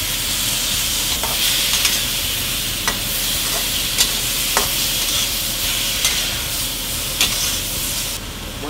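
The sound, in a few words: stir-frying garlic and meat for lomo saltado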